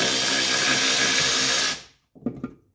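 A power tool, likely a drill or impact driver, whirs loudly and steadily for almost two seconds while removing the last bolt on a guide rod mount of a 1985 wagon, then stops, followed by a few faint clunks.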